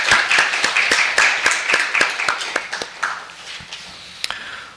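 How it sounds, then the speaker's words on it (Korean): Congregation applause at a church service, offered to God, with dense clapping from many hands through the first three seconds, then thinning to scattered claps and a final sharp tap. "우리 영광의 박수 주님께 올려드리겠습니다"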